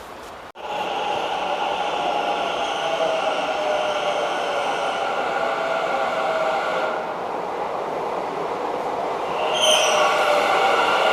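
A metro train at Nadaprabhu Kempegowda station in Bangalore rumbles loudly and steadily, with a brief squeal of wheels and a shift in its hum near the end, heard close up without voices.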